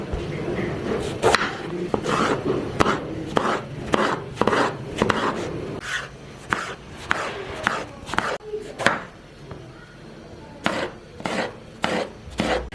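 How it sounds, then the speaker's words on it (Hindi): Eggplant is chopped into long strips on a board for a dhaba-style potato and eggplant curry, giving repeated knife knocks in uneven bursts, close and clear, with someone speaking over part of it. "तो बैंगन को भी हम उसी तरह लंबी शेप में काट लेते हैं।"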